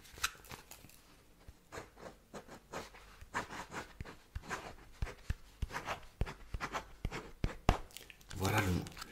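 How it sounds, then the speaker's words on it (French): A word handwritten and then traced over again, giving close, soft scratchy strokes and taps in an irregular rhythm, with quiet speech in between. "Je vais écrire le mot une première fois, et ensuite je vais repasser par-dessus le mot"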